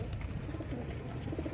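A pigeon gives a short, soft, low coo, close but faint, against a quiet indoor background.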